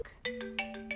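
A telephone rings in a scene from the TV show The Haunting of Hill House, several electronic ring bursts repeating in a steady rhythm over a sustained tone, clear and fairly loud with no talk.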